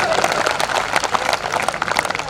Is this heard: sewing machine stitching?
no